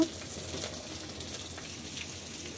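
Bombay duck (loitta) fish pieces coated in spiced cornflour batter fry crisply in hot oil, giving a steady, close, moderately quiet sizzle with fine crackling that goes on throughout, with no voices.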